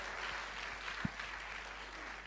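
Steady applause from a room full of people, a dense even patter of clapping with one brief thump partway through.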